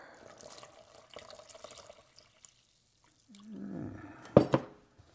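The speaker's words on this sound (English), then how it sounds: "But first I'm going to get the liquids in here." Liquids poured into a mixing bowl for pumpernickel bread dough, a short close splashing pour near the end followed by a couple of sharp knocks, after a stretch of faint handling noise.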